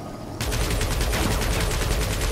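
Rapid automatic gunfire from the Guardians of the Galaxy video game breaks out after a brief pause. It continues as a dense, loud, sustained burst of shots.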